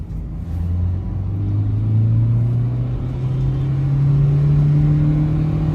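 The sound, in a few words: Toyota Etios diesel car accelerating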